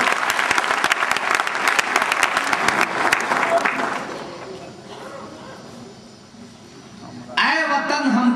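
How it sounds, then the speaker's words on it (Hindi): Audience applause welcoming an honoree at a ceremony: loud, dense clapping for about four seconds, fading to a quieter room before a sung voice enters near the end. "तालियों से इनका स्वागत करें।"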